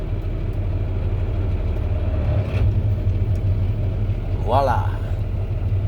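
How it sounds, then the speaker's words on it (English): A tractor engine idles steadily while warming up on a farm, a constant low rumble throughout with a short word spoken over it near the end. "Let the tractor warm up a little bit"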